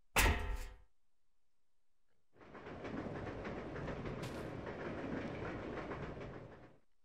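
Moving train in the video game Resident Evil 0, a steady broadband rattling rumble that swells in after a short thud and holds evenly for several seconds before fading, no talk.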